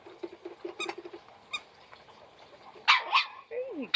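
A young puppy gives a few short, high yips and small barks during a puppy evaluation, with quiet squeaks and soft background sounds between them.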